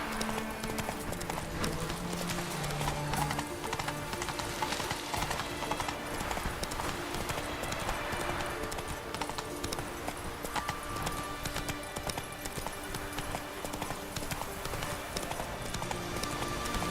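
Rapid clip-clop of Roach the horse galloping in The Witcher 3, a steady drumming of hooves carried over a continuous bed of game music and ambience, with no speech.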